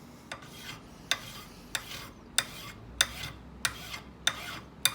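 A hand file rasps flat and rounded cuts into a key blank for an antique three-lever desk lock, seven sharp, evenly spaced strokes, each starting with a bright scrape and fading, close and clear with no talk.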